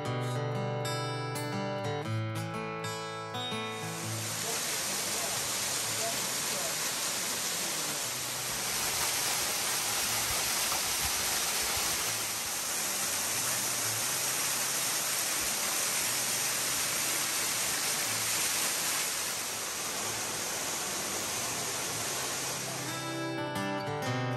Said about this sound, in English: The last waterfall we took in on this trail was the Judy Wank Falls.